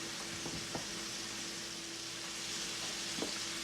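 Chopped steak meat fries in a pan with a quiet, even sizzle, broken by a few soft clicks as the pieces are stirred, and no one talks.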